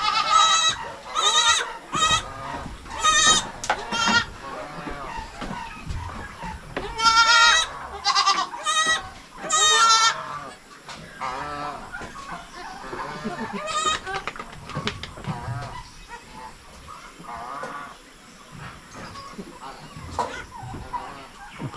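Goats bleat loudly and repeatedly on a farm during kidding, with several close, wavering calls in clusters, then quieter farm sounds and faint voices later.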